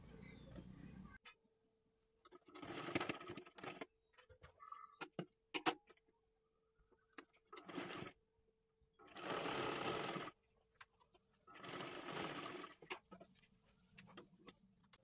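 A sewing machine stitches a katori blouse in several separate bursts of fast, steady whirring, each lasting one to two seconds. Short quiet gaps fall between the runs, and faint handling noises fill them.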